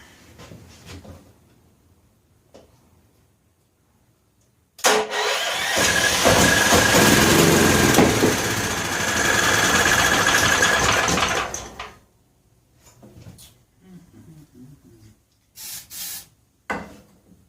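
An 8500 watt electric start generator cranks and runs roughly for about seven seconds, loud and close, then cuts out, followed by short bursts of cranking and clunks.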